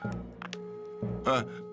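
Telephone dialing tones in a Fireman Sam cartoon, a few short beeps with voices talking over and around them.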